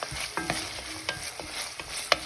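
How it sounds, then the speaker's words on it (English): Onions, carrots, ginger and garlic sautéing in a pan, with a gentle steady sizzle broken by several short stirring scrapes and taps, close but fairly quiet. "let's start by sauteing our onions, then add the diced carrots and ginger and garlic"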